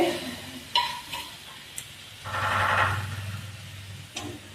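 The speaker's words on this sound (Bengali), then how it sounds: "এবার দিয়ে দেবো কেটে রাখা সবজি, গাজর, কুমড়ো," Chopped carrot, pumpkin and papaya tipped into a hot pan of sambar dal, a few clattering drops followed by a swelling sizzle and hiss that fades back down, with no voices.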